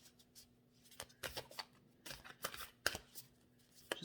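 Tarot cards being shuffled by hand in a few quick riffling bursts with short pauses between them, crisp and close, no voices.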